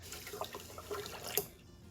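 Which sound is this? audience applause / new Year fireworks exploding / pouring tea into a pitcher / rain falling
pouring tea into a pitcher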